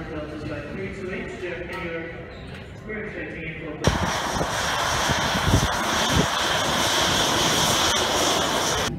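A jet airliner landing low over Maho Beach on St Martin starts as a faint, distant engine drone. It then surges abruptly into a loud, broadband roar that stays steady and overwhelming through the rest of the clip.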